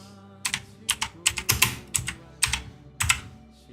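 Rapid bursts of typing on a computer keyboard entering text into a search bar, a series of close, crisp key clusters in uneven rhythm with short pauses between them, no talking.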